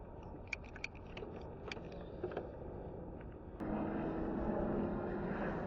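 Wind rushes over the microphone while a Hynox Trooper folding fat tire e-bike with a 1,400W motor rides on throttle, the low steady drone swelling louder partway through as speed builds, with faint rattles early on.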